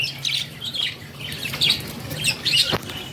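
Pet birds kept with clay breeding pots chirping and squawking close by, a busy run of short high calls and some wing flutter, with no one talking.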